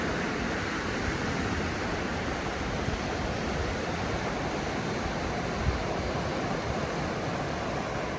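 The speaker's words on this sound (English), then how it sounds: "You can hear the water's really shallow now." Shallow sea waves wash steadily onto a beach on a foggy night at Cromer and Overstrand, a continuous broad hiss with no distinct breaks and no voices.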